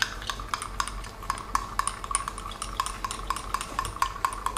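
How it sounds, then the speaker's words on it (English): A spoon stirs a mocha sweetened with condensed milk in a cup, making rapid, steady ringing clinks against the cup's side, close up and fairly quiet, with no talking. "And stir."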